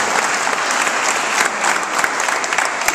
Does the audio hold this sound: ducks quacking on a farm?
no